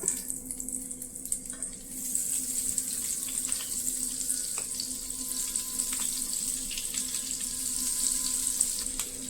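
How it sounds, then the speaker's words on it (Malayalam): Cauliflower fries in hot oil and is stirred in a home kitchen for a phool gobhi makhani dish, giving a steady hiss and sizzle that grows louder after a couple of seconds, with faint clinks of the spoon. "ഇളക്കി കൊടുത്ത് നമുക്കത് വറുത്ത് കോരിയെടുക്കണം"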